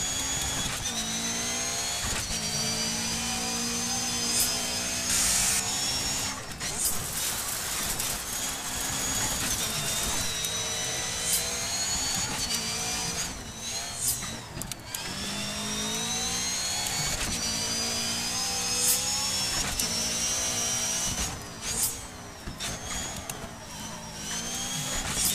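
A rallycross car engine in the racing game Dirt 3 drones and revs steadily and loudly, its pitch climbing and dropping through repeated gear shifts, with brief dips between runs.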